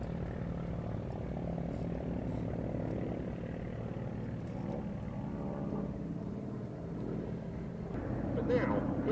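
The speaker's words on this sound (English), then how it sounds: "here come the Corsair and the Tomahawk." Warbird propeller planes, a Corsair and a Tomahawk, drone past at an airshow, a steady rumbling engine roar at moderate distance that swells slightly near the end, with faint talk in the background.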